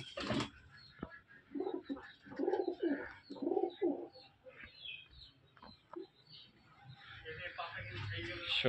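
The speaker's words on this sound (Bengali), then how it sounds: "এগুলা সব হাই ফ্লাইং কবুতর আর বড় ভাইয়ের" Pigeons at a high flying pigeon farm coo in soft repeated low calls, several bursts in succession, heard close amid a faint background of other birds.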